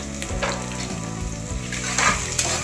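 Onion and three green chillies sautéing in a pan for tomato rice, a loud constant sizzle with stirring scrapes and a low rhythmic hum underneath, close by and without speech.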